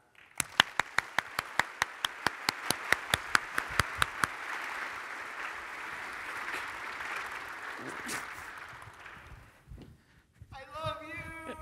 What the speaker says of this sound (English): Please give a round of applause for Aaron